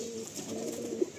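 A pigeon kept for sale gives a brief, soft, low coo close by in a quiet indoor setting.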